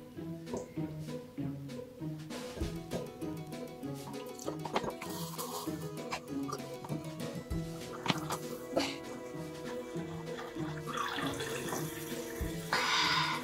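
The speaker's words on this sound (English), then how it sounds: "you take a cup and you fill it with" White vinegar pours from a bottle into a cup, a steady liquid trickle against background music, with a brief louder splash near the end.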